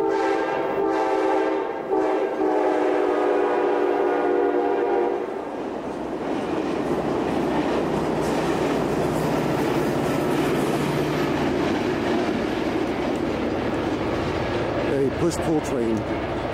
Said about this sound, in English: Push-pull train in reverse.